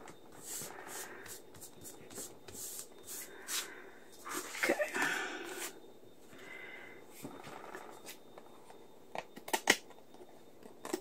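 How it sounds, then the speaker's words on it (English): Regular household scissors cut paper for a flip-open double pocket craft piece with tags and a journal card, giving soft scattered snips and rustles at close range that grow denser around the middle and end, with no talking. "I'm just using my regular scissors."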